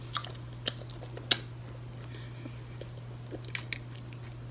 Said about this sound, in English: Sorry for all the smacking and slurping.